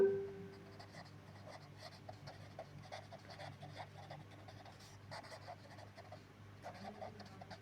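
Marker or chalk writing on a board during an accounting lecture, quiet rhythmic scratching strokes in short bursts close by, with a faint steady background hum and no talk.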